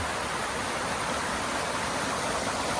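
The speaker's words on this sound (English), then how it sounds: "Waterfall's going all the way up there." A waterfall pours in a steady, loud, broadband rush that fills the whole stretch without a break, heard close up.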